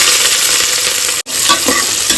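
Sliced onions sizzle and fry in hot oil with cinnamon and cloves for tomato rice cooked in a pressure cooker, a steady loud hiss with stirring, briefly cut off by a short silent break midway.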